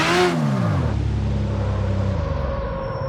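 A Mazda RX-7 in the racing game CarX Street revs hard and loud at the start, then its engine note drops and drones steadily with a whirring, slightly falling pitch, no voices over it.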